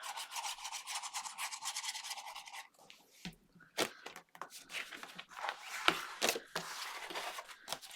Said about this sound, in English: And then fold and burnish.